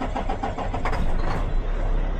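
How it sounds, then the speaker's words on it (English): A farm truck that needed a jump start the day before cranks and turns over, a rough rhythmic churning of the engine that stays loud and close throughout. "This is the truck that I had to jump start yesterday. Let's hope she goes."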